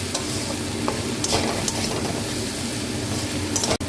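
Stirring food frying in a pan after sugar has been added, a steady loud sizzle with scraping stir strokes throughout, ending in a brief sharp knock.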